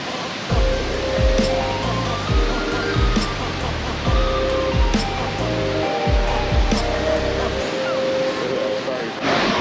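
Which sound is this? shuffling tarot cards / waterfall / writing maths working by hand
waterfall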